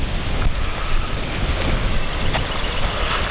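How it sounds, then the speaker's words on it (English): Strong wind at a lakeside campground with cypress trees, a loud, steady roar of gusts buffeting the microphone, broadband and unbroken for the whole stretch, with no voices. "So windy."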